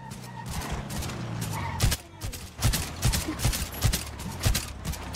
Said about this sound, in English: Oh, they shoot, they shoot, they shoot.